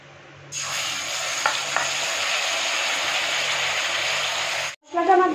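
Spice paste for a bata fish curry hits hot oil and erupts into a loud steady sizzle for about four seconds, with a few stirring clicks, then a brief pause and another burst.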